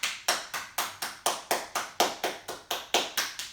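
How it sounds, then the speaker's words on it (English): A hand taps along the underside of an arm during yoga self-massage, a quick, even run of about fourteen close, crisp pats with no voices. "slowly tap from the inside of your shoulder on the underside of your arm"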